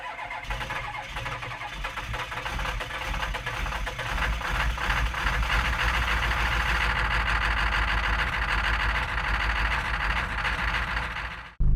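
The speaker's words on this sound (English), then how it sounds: "We're gonna find out how big of a difference wheel bearings make for cab noise." A Jeep Liberty CRD with worn wheel bearings and hubs, heard from inside the cab, its diesel engine starting and rising to a steady loud drone with road and cabin rumble, no talk.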